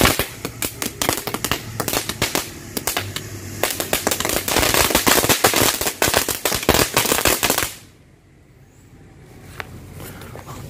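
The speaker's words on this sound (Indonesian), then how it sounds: "itu dia hasilnya mercon blooming flower" A blooming flower firecracker goes off in a rapid, loud, crackling string of pops for about eight seconds, then cuts to a quiet hiss.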